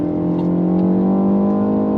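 A BMW M135i xDrive engine pulls hard under acceleration, its tone rising through a quick upshift, loud and close with no voices.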